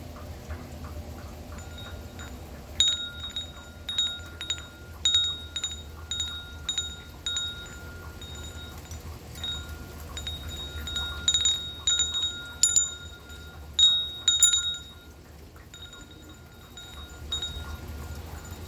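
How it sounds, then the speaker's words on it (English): An outdoor wind chime bought from Aldi rings on a rainy day, scattered bright metallic tings in clusters over steady wind and rain noise, with no talking. "thought I'd show you this wind chime. It's really nice."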